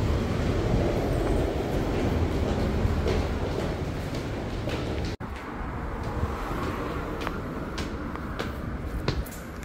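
A train rumbles at a railway station in Sapporo, a continuous heavy roar of wheels and carriages with scattered clanks and clicks, close and steady throughout.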